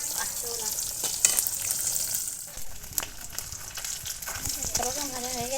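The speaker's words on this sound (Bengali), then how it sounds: "আলুগুলো সব ভেজে নিচ্ছি।" Potatoes fry in hot oil in a pan with a steady, dense sizzle and occasional stirring scrapes, continuous and close throughout.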